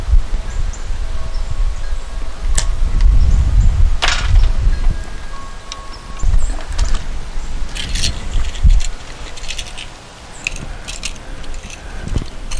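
Wire being cut back and handled while installing electrical wiring in a backyard pavilion, heard as close rustling, scraping and a few sharp metallic snips, with no talking.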